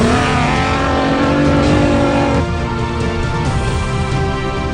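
A race car engine revs hard and steady, loud and close, with a slight drop in pitch partway through as it holds a sustained roar.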